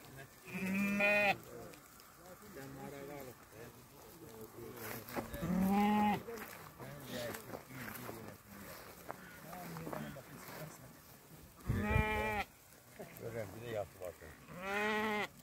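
Sheep bleating in a flock of pregnant ewes offered for sale. Several loud bleats come at intervals, some near and some farther off, while someone talks throughout.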